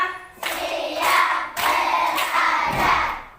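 A classroom group claps in time on a teacher's count, a few dense bursts of hand claps separated by brief gaps, fairly close and loud.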